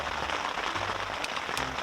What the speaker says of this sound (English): now it's starting to rain, as you could probably hear